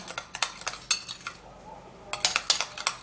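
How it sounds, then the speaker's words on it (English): A spoon stirs a baking soda and cucumber paste in a bowl, clinking and scraping in quick rhythmic strokes up close, with a brief pause midway before the stirring resumes. "Then we'll stir that up, and it should be thicker,"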